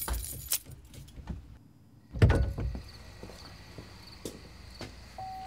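Keys jangling close by in a quiet indoor room, several short metallic rattles with a louder burst of jingling near the middle, mixed with light footsteps and knocks.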